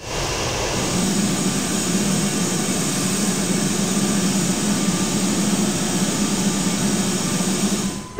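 A jet airliner roars steadily down a foggy runway at Providence on its takeoff roll, the loud, continuous engine noise holding strong for several seconds with no talk over it.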